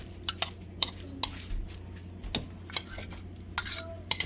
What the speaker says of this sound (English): I'm just going to spoon this on top of here, like so.